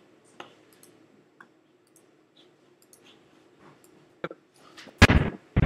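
A sudden loud explosion sound effect bursts near the end, a sharp broadband boom after mostly quiet scattered clicks and faint noises.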